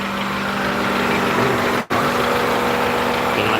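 A red big-body Toyota Corolla's engine idles steadily close by, a continuous rumbling hum with one brief dropout midway, no voices over it.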